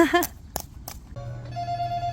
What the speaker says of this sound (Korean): 전화 받아봐